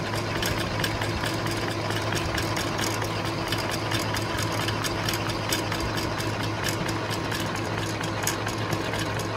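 Etcokei electric yarn winder running steadily, its small motor giving a continuous droning whine with a faint rattle, close and unbroken throughout with no talking.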